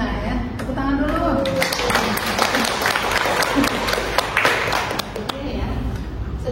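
A classroom audience applauds together after a lecturer announces evaluation results: a dense wash of clapping from about a second and a half in that continues steadily to the end, with talk mixed in.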